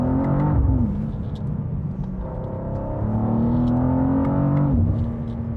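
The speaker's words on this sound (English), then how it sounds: "This sounds more like a race car" A 2025 BMW M2 engine revs up and down close by, its pitch rising and falling in a couple of aggressive swells with a throaty rumble underneath.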